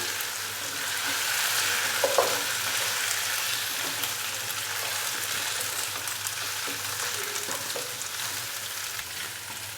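Fried chicken pieces tossed into masala in a hot pan for black pepper dry chicken, giving a steady, close sizzle and frying hiss with occasional soft scrapes of stirring throughout, no voices.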